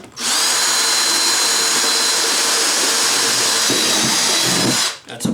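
Power drill boring a pilot hole in the bottom of a bucket, a loud, close, high-pitched continuous whine that starts abruptly, holds steady for about five seconds and then winds down.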